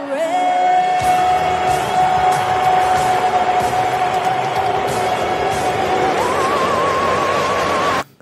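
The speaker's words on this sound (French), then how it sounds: "Entre les applaudissements et les avions de chasse qui passent en même temps" Stadium crowd applause at an NFL game blends with the steady roar of fighter jets flying overhead, a loud, continuous wash with a held musical tone running through it before it cuts off abruptly.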